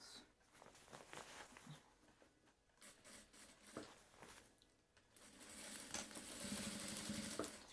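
A sewing machine stitches seams on a notebook bag, its quiet mechanical whir starting and stopping in short bursts before a longer, steadier run near the end, heard up close and without talk.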